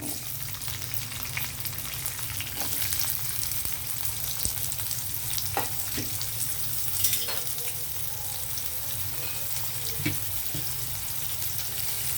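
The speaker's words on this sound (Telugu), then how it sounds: "జీలకర్ర హీట్ అయిపోయింది ఉల్లిపాయలు వేసేస్తున్నాను" Onions hit hot oil with cumin seeds and fry in a steady, bright sizzle, with faint scrapes and clicks from stirring scattered through it, all close and even with no break.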